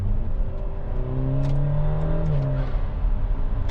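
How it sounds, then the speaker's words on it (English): An Alfa Romeo Giulia fitted with an aftermarket blow-off valve revs, its engine rising and falling in a steady, fairly close drone with small sharp hissy bursts scattered across the run. "the blow-off valve just makes the car scream a little bit more"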